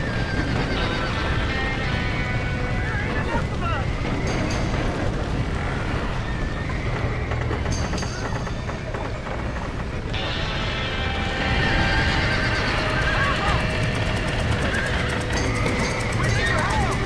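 Horses neigh and whinny repeatedly amid clip-clopping hooves and a dense, roaring background in a Red Dead Redemption game scene, with voices talking over the commotion.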